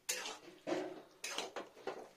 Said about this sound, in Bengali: এবার আমি আরেকটু নাড়া দিতে থাকি কন্টিনিউ, শাকটাকে ভালো করে পোস্তটা মিশে যাবে